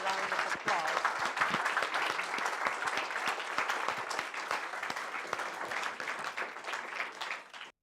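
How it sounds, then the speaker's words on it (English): An audience at a Women in Imperial event gives Professor Schiebinger a sustained round of applause, crisp individual claps blending into a steady wash that ends suddenly, with some talk underneath. "Let's give Professor Schiebinger another round of applause."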